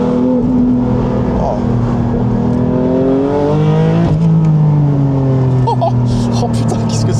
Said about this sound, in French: faire chanter ce moteur.